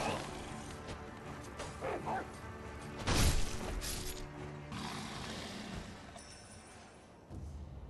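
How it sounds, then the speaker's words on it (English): A dog barking and yipping in the video game Sekiro: Shadows Die Twice, heard as a few short barks and whimpers under game ambience and mechanical noises, moderately quiet and mid-distance. "Oh god, you're a dog."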